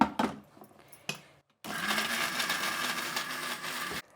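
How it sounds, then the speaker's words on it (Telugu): A mixer grinder blending ginger chutney with a little jaggery: short whirring bursts at first, then after a brief silence a sustained, close grinding whir that runs for a couple of seconds before cutting off. "అల్లం చట్నీ చల్లారిపోయిందండి, మిక్సీ పట్టేద్దాం"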